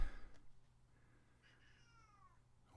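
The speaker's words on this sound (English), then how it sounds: "Whoa, did you hear that? That was the cat." A faint, short cat meow with a rising-falling tone in the middle of an otherwise quiet room, with a soft bump at the start and end.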